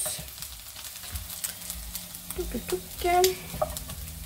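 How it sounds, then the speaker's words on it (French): Wine is poured into a frying pan of onions, setting off a soft sizzle and patter that swells briefly near the end, quiet and close. "on y ajoute ça, le vin."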